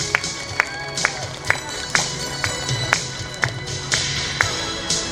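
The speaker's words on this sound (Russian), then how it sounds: "Громче, хлопаем." An outdoor crowd at a flower festival in Kazan claps in unison for a performer coming on stage. Sharp, evenly spaced claps land about twice a second over a murmuring background.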